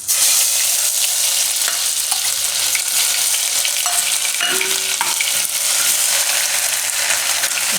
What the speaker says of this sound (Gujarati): નાખશું થોડીક રાઈ અને જીરું અને થોડીક આપણે હિંગ નાખીશું અને હળદર નાખી દઉં એમાં